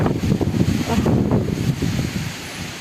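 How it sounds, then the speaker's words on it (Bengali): Storm wind gusts across a rooftop in a Khulna village, a loud, continuous rushing roar with buffeting bursts on the microphone, no voices, sustained throughout. "আবার এই তুফানটা ভয় লাগে খুব"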